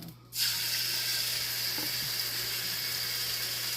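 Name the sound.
pork chops searing in a frying pan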